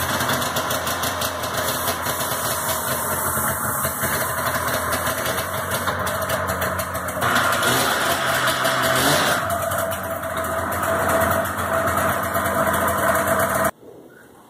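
A small two-cylinder engine runs steadily on both cylinders up close, a continuous rough drone that shifts slightly in pitch before cutting off abruptly near the end.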